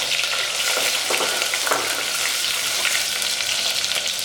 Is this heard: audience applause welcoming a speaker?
no